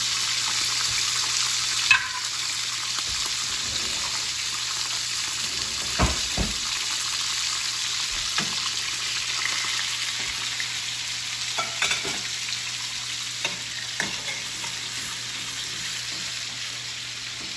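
Pork tenderloin frying in butter and oil in a pan, an even, continuous sizzle close by with occasional knocks and scrapes of utensils, no speech.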